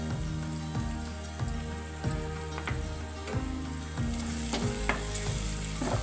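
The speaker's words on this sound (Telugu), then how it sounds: "ఇప్పుడు గోంగూర పేస్ట్ని కూడా వేసేసుకుందాము" Gongura (sorrel leaf) paste sizzles and crackles in hot oil in a pan, a steady close frying hiss with occasional pops and stirring scrapes throughout.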